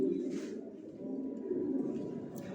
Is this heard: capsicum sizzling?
no